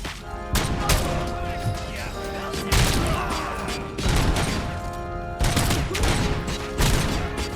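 Repeated bursts of gunfire from a Robocop video game, loud rapid volleys separated by short pauses, with mechanical clanks and thuds between shots.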